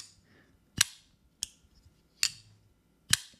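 A Christensen Knifeworks Maverick pocketknife closing: four sharp, dry clicks at close range, spaced roughly evenly over three seconds, with quiet gaps between them.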